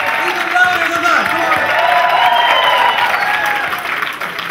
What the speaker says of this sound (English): you'll hoop and holler and cheer as loud as you can